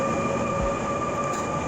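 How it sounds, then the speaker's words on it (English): A metro-style passenger train rolling past, steady loud rumble and rail noise with a sustained high whine, continuous and near throughout the short stretch. "Наш поезд проехал мимо."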